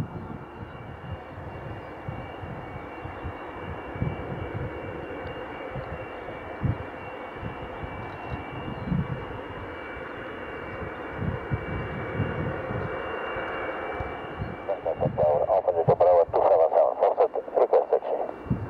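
An Antonov An-124 cargo jet departs Doncaster Airport, its broad engine roar holding steady and fairly loud throughout, then swelling with a harsher, brighter rush near the end.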